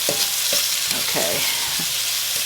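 Thin lo mein noodles for a shrimp noodle bowl sizzle steadily in a pan, with close scraping and clattering as they are stirred and turned, no voices.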